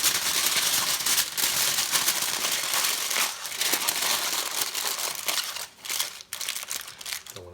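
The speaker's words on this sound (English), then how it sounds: "you always just want to be careful so you don't tear your foil." Aluminum foil crumpled and crinkled by hand as it is wrapped around pork ribs, a dense continuous rustle that stays loud throughout and breaks into a few sharper crunches near the end.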